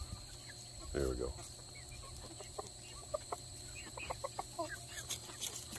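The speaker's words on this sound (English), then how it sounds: "Come on, Mr. Rooster." Rooster and chickens in a yard with dogs nearby, a loud crow-like call near the start followed by scattered short clucks and calls over steady insect chirping, with faint voices in the background.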